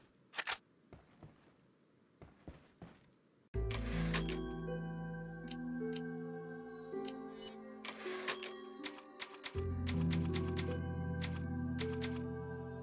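Rapid mechanical typewriter clacks and keystrokes in the Resident Evil 4 save screen, sharp and close, heard over a swelling, sustained musical backdrop with no talk.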